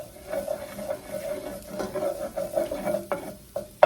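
Garlic sizzles steadily in a hot frying pan, a close, continuous crackle with a soft stirring scrape and a sharp clink of a utensil at the end.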